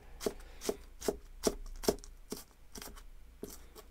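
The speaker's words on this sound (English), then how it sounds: "slice it in half lengthwise, and then go for very thin" A kitchen knife slicing green onions very thin on a cutting board, producing about ten crisp, close chopping taps in a steady rhythm, a bit under half a second apart, with no voices.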